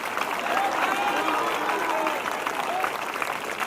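Audience at a Sunday evening church meeting clapping in a dense, sustained burst of applause, with a voice speaking over the clapping throughout.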